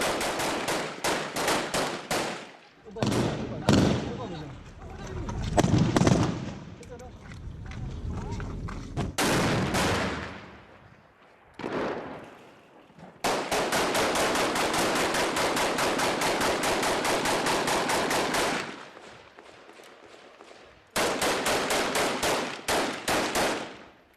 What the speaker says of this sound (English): The Kurds throw everything they have at the gunmen. IS return fire.